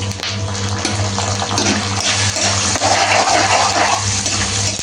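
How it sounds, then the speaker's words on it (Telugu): Peanuts and green chillies fry in hot oil for atukulu pulihora, giving a continuous close sizzle over a low steady hum. "పల్లీలు ఇవి వేగుతున్నాయి కదండి, మనం పచ్చిమిర్చి కూడా వేసుకున్నాం."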